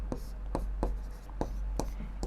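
Pen writing on paper during a maths lesson, a series of short scratchy strokes at an irregular pace over a low hum.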